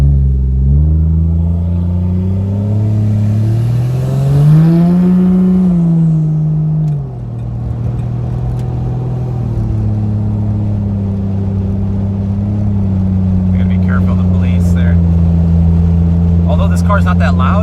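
Turbocharged 1JZ engine in a Fox Body car while driving on the street, a loud, close drone that climbs in pitch, drops back and holds steady, with someone talking over it near the end.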